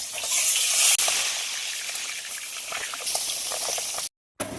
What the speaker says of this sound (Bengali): মাছগুলো ভাজার জন্য এই পিঠটা উল্টে দেবো